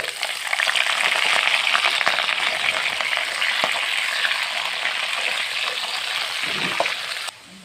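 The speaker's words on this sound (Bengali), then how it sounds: "এবার আমি আলু কটা ভেজে নেব" Potatoes fry in a pan, giving a dense, steady sizzle with crackling pops that carries on loudly for several seconds before cutting off abruptly, with no talking.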